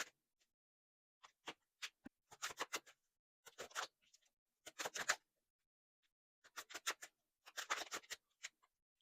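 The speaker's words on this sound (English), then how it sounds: "I'm going to shuffle your cards" Quiet, crisp riffling bursts of tarot cards being shuffled, repeated several times with short pauses between, close up and otherwise silent.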